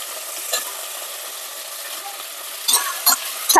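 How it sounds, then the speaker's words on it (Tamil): Brinjal sautés in oil in a pan with a steady close sizzle, joined near the end by a few sharp scrapes and clatters of stirring. "கத்திரிக்காவும் எண்ணெயிலே நல்லா வதக்கிக்கிறேன் நான்."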